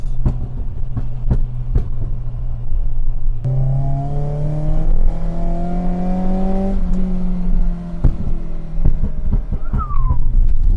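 A BMW E30 with a swapped M44 engine idles, then revs up in a rising drone before dropping back, with sharp pops and crackles from the exhaust scattered throughout.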